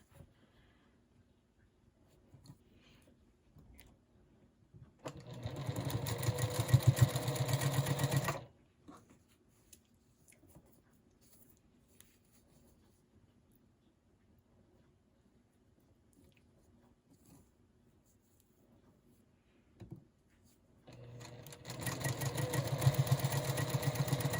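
Two short runs of a sewing machine stitching fabric pieces for a quilt block, a brisk close whir for a few seconds each, separated by a long quiet stretch with faint handling sounds.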